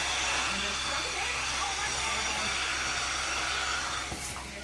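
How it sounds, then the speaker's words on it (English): A vacuum milking machine runs on a Jersey cow during live milking in a dairy barn, giving a steady, loud airy hiss and hum that holds throughout with a low mechanical drone beneath. "Once you start, it starts the vacuum valve."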